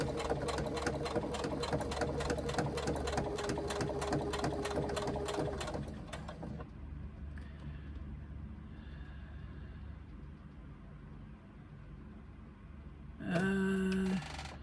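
Rapid, even stitching from a sewing machine running along a previously top-stitched line on a fabric pouch, close and loud, then stopping abruptly before a short mechanical burst near the end.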